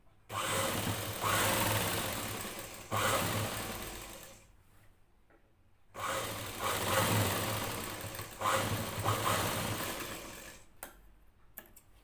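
A sewing machine stitches a plain blouse along a marked line in loud, fast, steady runs of several seconds each, separated by short quiet pauses while the fabric is adjusted.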